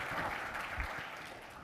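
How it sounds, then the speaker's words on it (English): Conference audience applauding for a presenter at a Jamf tech event session, a dense steady clapping from a room full of people that tapers slightly toward the end. "everyone please give a big round of applause for Alex Bauer"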